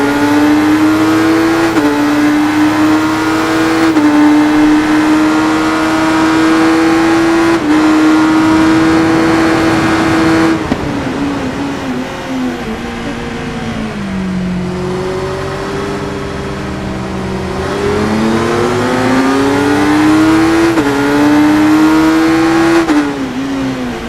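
A 2021 Kawasaki Z900 with a 948 cc inline-four engine, in the racing game RIDE, revs and climbs through gears in a loud, sustained whine, pitch rising and dropping with shifts and throttle changes throughout.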